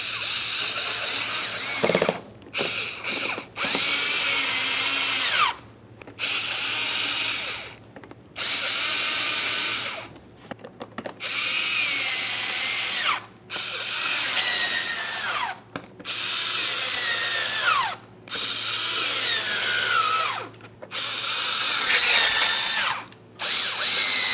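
A power drill whirs in repeated bursts, each a few seconds long, separated by brief pauses as grille mounting panel screws are driven in one after another on a 2006-2012 Ford Fusion.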